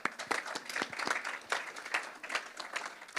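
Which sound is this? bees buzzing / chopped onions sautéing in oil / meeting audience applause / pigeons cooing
meeting audience applause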